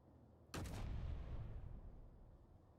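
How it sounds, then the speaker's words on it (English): An explosion goes off in the video game Space Engineers, a sudden loud boom followed by a rumbling decay that fades over about two seconds. "I like the explosion."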